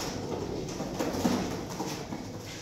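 Indian breed pigeons cooing softly in a loft, a steady low murmuring coo that continues throughout over a faint, constant background hum.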